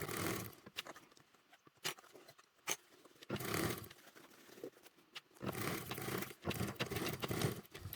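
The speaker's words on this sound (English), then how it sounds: "So I'm just reverse stitching." A sewing machine reverse stitching a fabric bottle-bag grab handle, with bursts of whirring motor and needle clatter starting and stopping several times, fairly close.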